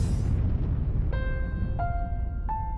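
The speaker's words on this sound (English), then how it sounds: "the big guys, known as supergiants, end their days in massive supernova explosions" A supernova explosion sound effect: a steady, loud low rumbling roar, joined partway through by three bright ringing tones struck one after another, with no voices.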